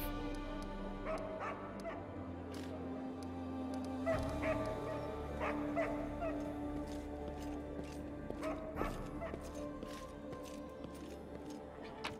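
A dog barks repeatedly in the fantasy video game Pathfinder Kingmaker, with sharp woofs and yips over soft background game music and ambience.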